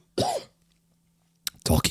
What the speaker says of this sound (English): Talking is making me cough.